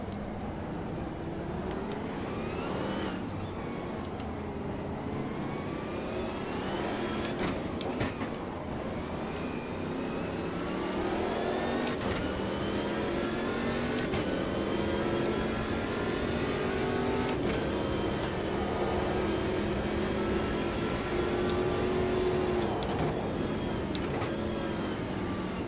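A car accelerates hard while overtaking, heard from inside with the camera on the hood, its engine note rising steadily in pitch over continuous road and wind roar, loud and close with no talk.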